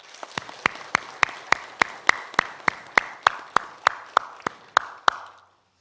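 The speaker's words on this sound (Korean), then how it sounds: "박수합시다." A church congregation at a Sunday Easter service claps in unison, about eighteen even, sharp beats at a steady moderate tempo that then stop abruptly into silence.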